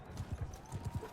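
Horse hooves clip-clop in a steady rhythm through Mount and Blade Bannerlord, about eight close, even footfalls over a little more than a second with a faint whinny-like tone, no talking.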